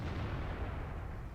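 A tank cannon fires in World of Tanks, one dense, rumbling low boom that fills the whole short moment with no voices.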